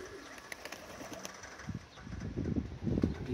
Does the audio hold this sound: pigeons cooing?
yes